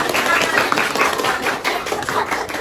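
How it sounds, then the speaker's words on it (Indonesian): Students in a university classroom clap together in a dense, brisk round of applause, close and fairly loud, with voices chattering underneath. "Tepuk tangan lagi buat Ati."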